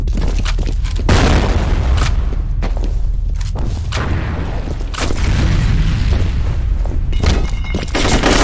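Repeated heavy booms and blasts fill a F.E.A.R. Combat multiplayer match, including grenade explosions, loud and close, with gunfire-like thumps packed densely throughout and no voices heard.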